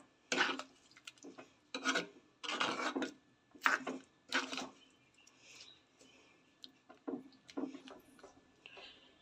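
Dried fish curry with radish stirred in a pot, heard as a series of short, close scraping and rubbing strokes with pauses between them, and no talk.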